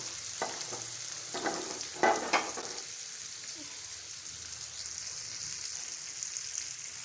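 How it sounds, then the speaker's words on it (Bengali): Pieces of katla fish fry in a pan with a steady, close hiss of hot oil, broken by a few scraping stirs near the start. "এক পিট বাজা হয়ে গেছে এখন সবগুলো মাছ উল্টিয়ে নেব"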